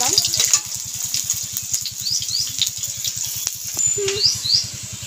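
Chopped onion dropped into hot oil in a home kitchen, giving a steady bubbling sizzle with faint clinks, while someone talks over the cooking.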